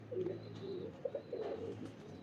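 A Rampuri pigeon with Teddy cross coos close by in several low, rolling bursts, repeating with short pauses over a quiet background.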